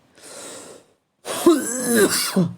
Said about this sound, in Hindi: बहुत ज़्यादा खांसी आ रही है